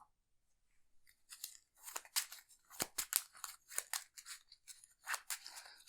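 An Arkham Horror card game encounter deck is being shuffled by hand: a quiet series of crisp riffling, snapping bursts of cards, irregular and close, with no talking.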